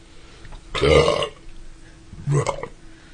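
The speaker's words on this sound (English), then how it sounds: "Excuse me, I'm going to burp." Two loud belches, one long at about one second and a shorter one near two and a half seconds, from men in casual conversation, with no talk in between.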